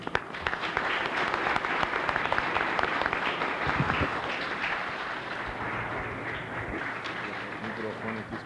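An audience at an inauguration ceremony of the Amazonas Academy of Letters applauds in a dense, steady wash of clapping that runs for the whole stretch, with a few voices faintly mixed in.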